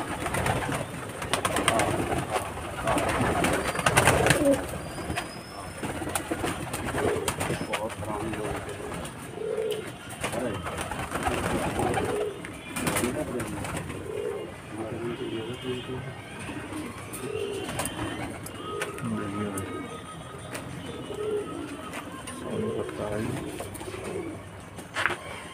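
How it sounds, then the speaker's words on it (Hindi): Pigeons cooing in a loft, many birds giving soft, repeated throaty coos and rustles close by, with people talking over them now and then. "ये कौन सा कबूतर सलमान भाई?"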